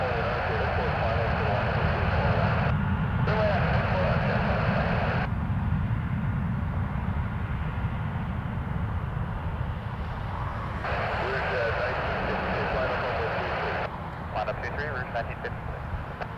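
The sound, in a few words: Avianca Airbus A321neo jet departing to San Salvador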